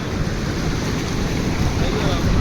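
Dense rushing roar of surf breaking close by at Colva Beach, South Goa, mixed with wind buffeting the microphone, steady for the whole stretch.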